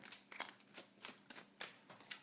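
Tarot cards being shuffled by hand, a series of soft papery riffles and slaps repeating in irregular bursts, close and fairly quiet with no talking.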